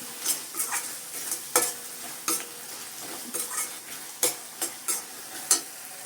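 Onion, tomato and green chilli sautéing on a low flame for a Punjabi-style baby potato gravy, with a steady soft sizzle broken by repeated sharp scrapes and clinks of a spatula against the pan, close up.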